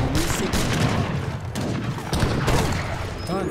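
Artillery fire in the strategy game Age of Empires 3, a dense barrage of booming cannon shots and crackling gunfire overlapping continuously across a brief battle.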